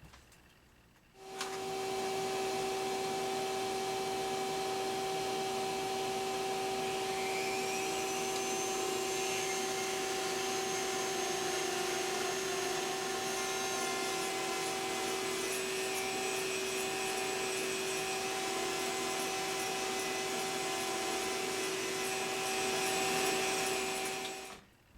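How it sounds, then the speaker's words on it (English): A vacuum motor starts and drones steadily for about twenty-five seconds while cork is ground on an electric mandrel spinner, with faint rasping and grinding layered over the hum, then stops. "turn this on, turn this on, turn the vacuum on"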